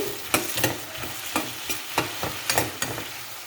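Potatoes fry with garlic and curry leaves in a hot pan under a steady sizzle, while a spoon stirs in rhythmic scraping strokes roughly twice a second, close and clear, with no speech.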